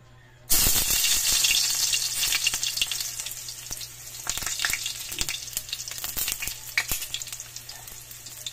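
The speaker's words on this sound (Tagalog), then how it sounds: "Gigisa na natin guys yung bawang." Chopped garlic hits hot oil in a heated pan with a sudden loud burst of sizzling that settles into a steady crackling hiss, fading slightly then flaring again.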